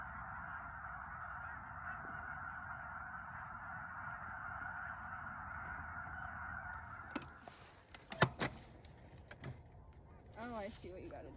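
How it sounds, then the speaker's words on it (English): A distant chorus of geese honks steadily across a lake, then closer sharp clatters and a few nearer honks break through. "there are so many birds in this lake that you just hear a chorus of them constantly"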